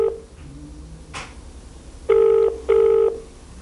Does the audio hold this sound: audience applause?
no